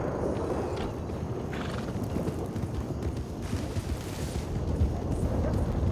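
A horse in the Western video game Red Dead Redemption moves with a dense, continuous rumble of hooves and gear, busy and close, with faint sounds layered over it.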